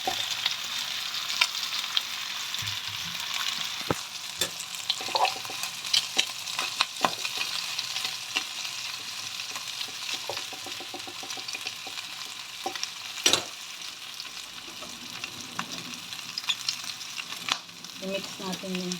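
Mung beans being stirred and fried in a pan give off a soft continuous sizzle, broken by scraping strokes and sharp utensil clinks against the pan.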